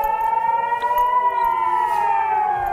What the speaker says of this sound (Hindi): किरियात शिमोना शहर जहां पर सायरन की आवाज लगातार लोगों को